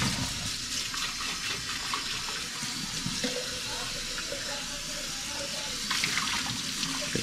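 Running tap water pours steadily into a kitchen sink while dishes are washed after pancake making, a continuous hiss and splash lasting throughout with faint clatter and a slightly louder burst near the end.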